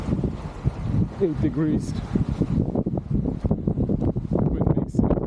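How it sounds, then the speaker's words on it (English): Strong wind buffets the microphone outdoors on an 8°C day by cold-plunge water, a constant roaring rumble beneath a voice talking throughout. "So yeah, it's quite windy."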